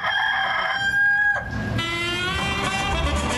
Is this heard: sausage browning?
no